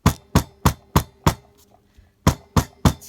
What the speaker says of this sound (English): this is the hammer I keep for leather work